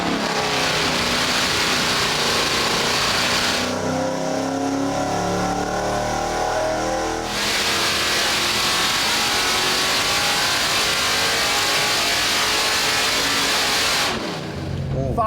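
A street engine with the cam timing set to 34 degrees sweeps from 3,500 to 6,500 RPM on a dyno, a loud, steady roar that climbs with a brief change in tone partway through and drops off near the end.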